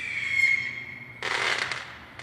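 Fireworks burst outdoors: a sustained high whistling tone fades into a loud, dense crackling explosion midway that decays over about a second, followed by a single short crack near the end.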